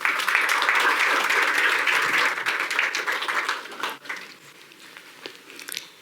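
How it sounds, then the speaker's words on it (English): Dense, loud applause from a conference audience at an investing event, a continuous wash of many hands that gradually fades and thins out toward the end. "A warm round of applause, everyone, for Zama."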